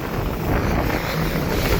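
Strong wind blows outdoors beside water, buffeting the microphone as a loud, steady broadband roar that fills the whole short stretch.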